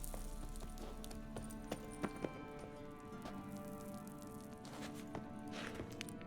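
Horse hooves clip-clop at a steady walking pace in The Witcher 3, a few sharper hoof strikes standing out over a constant ambient bed, moderately close and fairly quiet.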